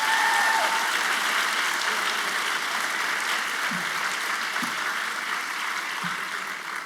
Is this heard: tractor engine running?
no